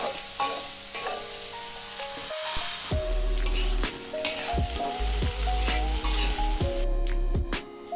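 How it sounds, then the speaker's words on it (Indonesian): Sliced shallots and garlic with crushed lemongrass and galangal sizzle steadily in a little hot oil, while a spatula scrapes and clinks against the pan in repeated strokes; no one speaks. "Tumis dengan sedikit minyak."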